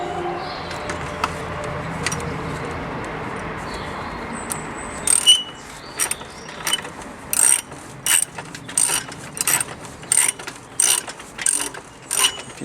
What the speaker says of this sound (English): now I'm going to compress that spring. So I'm using a 10mm wrench